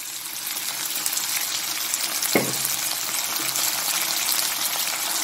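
Broccoli and pork belly stir-fry in a hot pan with a steady, close sizzle, broken once by a brief sharp clink partway through.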